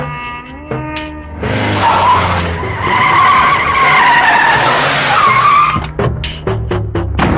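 Loud, sustained tire squeal from a car skidding in a Telugu action film scene, a long screeching slide lasting several seconds, framed by sharp impacts and dramatic score, with no speech.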